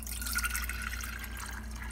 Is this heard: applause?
no